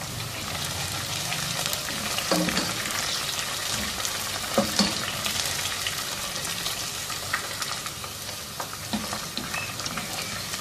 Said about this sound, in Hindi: स्लाइसिस में कटे हुए, इनको हल्का सुनहरी रंग में फ्राई करेंगे। चार 5 सब्ज़ मिर्चें भी शामिल कर दें इसमें।